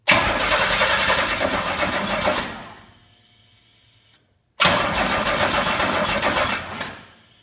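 Pontiac Fiero GT engine cranking and firing, a loud close mechanical whir that runs about two seconds and fades, then a brief silence before a second equally loud burst of cranking and running that tapers off.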